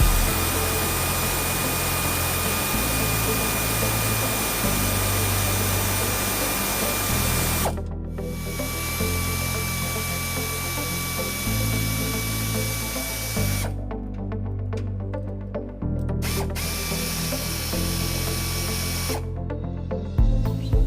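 A power tool loosens a trailer hitch bolt on a 2010 Toyota Tacoma, whirring loudly in long steady runs broken by a few short pauses, close up with no talking.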